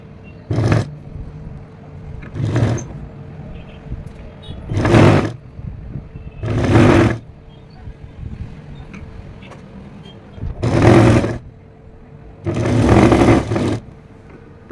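A sewing machine stitches a straight trouser seam at a half-inch allowance, running in six short, loud bursts separated by quiet pauses, with no talk.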